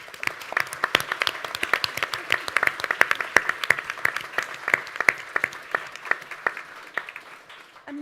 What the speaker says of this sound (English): please join me in a round of applause for Hira